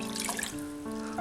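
Three cups of water poured into a saucepan for an Ayurvedic kadha immunity drink, a soft close trickling stream that swells slightly toward the end, with no voices.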